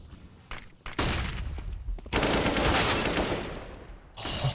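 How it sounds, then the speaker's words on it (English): Flashbang grenades and gunfire in CS:GO during a DreamHack Masters 2020 match, with sharp bursts of rapid shots and loud blasts separated by brief gaps, close and dominant. "Oh, the flashbangs."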